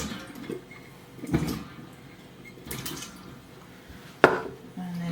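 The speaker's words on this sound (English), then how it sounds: "I'm just going to put them back into the water." Peeled potatoes are dropped back into a bowl of water, with a few light splashes and knocks, one sharper plop near the end, close and fairly quiet.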